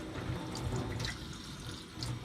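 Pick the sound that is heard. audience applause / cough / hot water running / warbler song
hot water running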